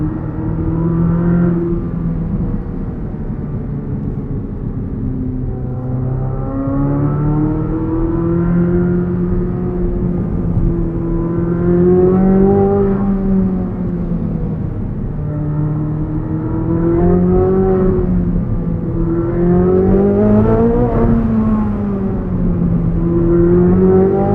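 A 2023 Chevrolet Corvette Z06 with a naturally aspirated engine pulls through repeated half-throttle upshifts, its loud, close revs rising and falling in waves with brief crackles between gears.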